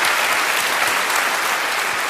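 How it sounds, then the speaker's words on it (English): Sustained applause from a live audience greeting a woman volunteer, dense steady clapping filling the whole stretch at close, even loudness with no voices over it. "Can we get a round of applause for our lady?"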